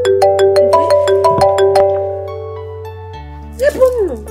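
A phone ringtone plays a rising electronic melody of repeated tones, loud and close, then fades before a voice briefly answers the call.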